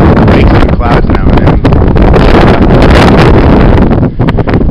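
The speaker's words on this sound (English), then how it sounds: "But at least the wind right here, anyways, isn't as fierce as up top or along the top of the ridge there." Strong, constant wind buffets the microphone on a mountain ridge while descending Lafayette in the Pemigewasset Wilderness, a loud, steady roar with gusts and no clear speech.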